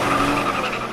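Squealing tires and engine roar as Denny Hamlin celebrates in a Toyota NASCAR race car, a loud, continuous screech held steadily for a brief moment.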